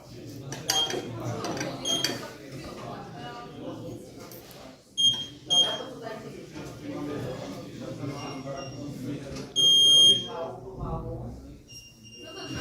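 Short electronic beeps sound from a keypad code lock signalling success, a few separate tones, with a person speaking throughout and some faint clicks and handling noise.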